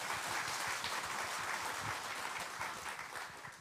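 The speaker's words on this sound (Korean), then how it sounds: "그럼 첫 번째 강의 큰 박수로 청해 듣겠습니다" A lecture audience applauds steadily to welcome the first speaker at a science talk, a continuous dense wash of many hands clapping that tapers slightly near the end.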